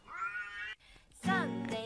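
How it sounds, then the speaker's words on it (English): A cat gives two drawn-out meows close by, separated by a short pause. "meow"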